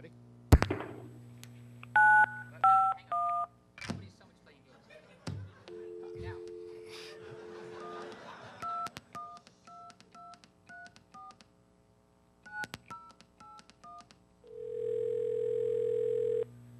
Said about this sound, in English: you have to dial the full 10-digit phone number